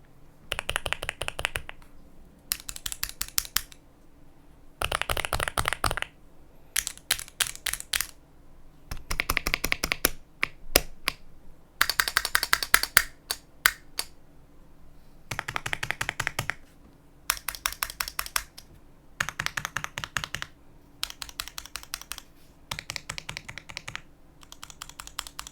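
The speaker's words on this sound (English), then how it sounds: "I'll alternate between this keyboard and my daily driver keyboard so you can hear the difference between them." Typing on an Aula F65 Pro mechanical keyboard, alternating with a second keyboard in separate bursts of rapid, close keystrokes lasting a few seconds each, with quiet gaps between them and no talking.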